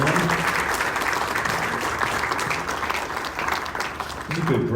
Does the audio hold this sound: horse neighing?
no